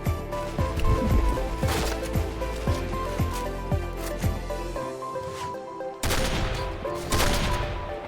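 Rapid bursts of automatic gunfire ring out in the Point Blank shooter game, a string of sharp shots in the first half, then a pause and another loud volley, with no clear talking.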